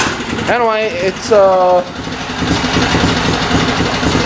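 Onan 16hp engine of a Sears Suburban SS16 garden tractor idles outdoors at night with a steady low putter, while someone speaks briefly over it near the start.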